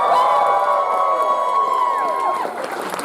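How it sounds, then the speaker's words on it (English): A convention crowd at an anime event's closing ceremony cheers loudly, with whoops and shouts over a sustained roar, while tonal music or electronic sounds with sliding pitches run underneath. "can I get you all to give a massive, massive cheer for Minamicon?"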